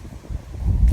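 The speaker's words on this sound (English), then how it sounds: "it's very windy up here" Strong wind high in the Blue Mountains of Jamaica buffets the microphone as a low, rumbling roar that swells toward the end, with no voices.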